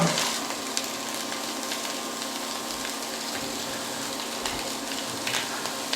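Fatty pancetta sizzling in a pan on top of browned vegetables for a ragù bolognese, a steady, close, crackling fry that runs unbroken from start to finish with no voices.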